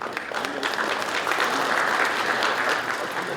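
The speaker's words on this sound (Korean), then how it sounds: "큰 박수 부탁드립니다" Steady applause from an audience at a Gyeongju mayor's New Year press gathering, dense and even, filling the room for a few seconds without speech.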